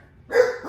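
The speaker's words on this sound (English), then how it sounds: "Hush, Nuggy, that's my dog" A pet dog barks indoors during a wall-stretching workout, one sharp, fairly close bark followed by the start of a second, alone without talk.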